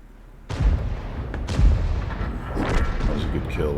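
Artillery fire in a tank video game: two heavy booming shots with deep rumbling, followed by ongoing battle noise, with a voice talking over it.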